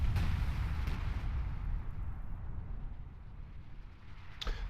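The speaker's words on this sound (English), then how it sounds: "You see British artillery goes down here, but it's not really targeting anything." A British artillery barrage in a WWII Battle for Caen game rumbles as a deep, sustained roll of distant explosions, with a sharper burst near the start and another at the end.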